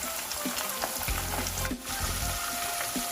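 Steady loud sizzling of pork ribs frying in a brass pan, with occasional stirring clatter and pops throughout.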